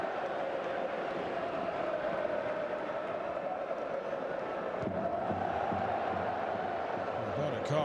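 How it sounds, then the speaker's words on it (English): Large football crowd roaring steadily inside the stadium during a La Liga Real Madrid vs Barcelona match, a dense continuous wall of distant voices and chanting with a slight swell near the end. "The crowd have been extraordinary here tonight."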